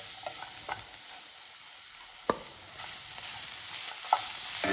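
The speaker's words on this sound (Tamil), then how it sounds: "கொஞ்சம் கிளறி விட்டுடலாம்." Paneer and pea rice is stirred in a pan over gentle frying, with a quiet sizzle broken by occasional sharp spoon clinks and scrapes against the metal.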